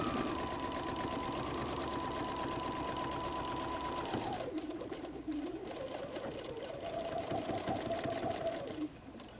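A sewing machine runs steadily, stitching along the bottom of a fabric messenger bag pocket. It hums continuously for about four seconds, then slows and shifts pitch as it keeps stitching at a close, even level.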